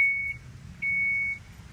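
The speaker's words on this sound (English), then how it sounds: "Beeps to let you know that the door is closing" The power sliding door of a 2014 Chrysler Town & Country chimes as it closes, giving two steady electronic beeps, a short one then a longer one, over a low background rumble.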